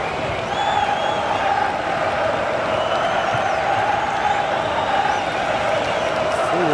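A stadium crowd in a World Cup football video game, France against Morocco, applauds and cheers in a steady, even roar that holds for several seconds, a broadcast-style backdrop without a clear peak.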